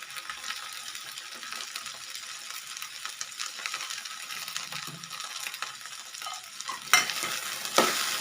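Okra curry seasoned with salt and kokum is stirred in a hot pan, giving a continuous hissing fry with scraping and clinks of the spoon near the end, close and without speech.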